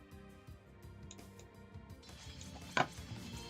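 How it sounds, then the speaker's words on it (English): Units in a strategy video game chop at stone walls, faint scattered knocks and ticks over low game ambience, with one sharper hit near the end. "And Emu's men are chopping away at the walls"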